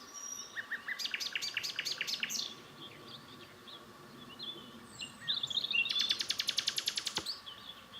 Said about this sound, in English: I managed to get footage of the nightingale